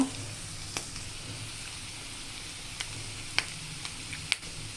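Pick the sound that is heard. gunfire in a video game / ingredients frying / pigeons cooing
ingredients frying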